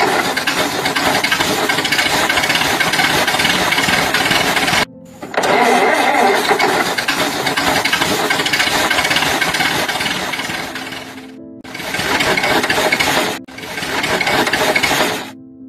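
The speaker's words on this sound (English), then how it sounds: "The engine would backfire, not idle smoothly, but sounding choppy and like it was going to shut down any minute." A struggling engine runs rough and choppy, sputtering and backfiring as it fails to idle smoothly. It cuts out briefly several times as if about to stall, loud and close, with no voices.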